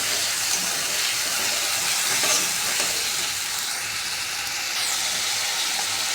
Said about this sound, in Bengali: বাটিতে দিয়েছি হলুদ লবণ লঙ্কাগুলো ধনেগুলো সমস্ত মশলা দিয়ে একসঙ্গে দিয়ে দিলাম মশলাটা কিছুক্ষণ কষাবো